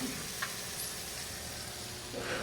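Farm-raised shrimp fry in a pan with a steady, even sizzle, close and moderate in volume, with a faint clink or two.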